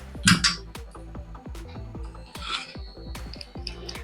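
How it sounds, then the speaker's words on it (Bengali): Grated garlic being mixed into sour yogurt in a bowl for chilli garlic bread, with repeated close spoon clinks and scrapes against the bowl in an uneven rhythm. "টক দইটা নিয়েছি নিয়ে এর মধ্যে গ্রেট করা রসুন দিয়ে দিলাম"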